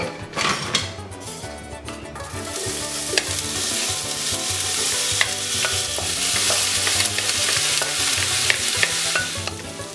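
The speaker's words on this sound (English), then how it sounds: "we're going to caramelize 2 large yellow onions" Two large yellow onions sizzle and fry steadily in oil in a big pan over high heat while caramelizing, with occasional stirring and utensil scrapes against the pan, no voices.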